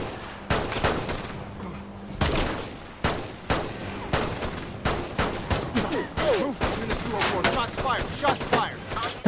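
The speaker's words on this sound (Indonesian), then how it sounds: "para polisi berdatangan dan aksi baku tembak pun tidak bisa dihindarkan" Rapid bursts of gunfire in a police shootout with bank robbers in a crime thriller, loud sharp shots crackling in irregular volleys throughout, with some faint voices underneath.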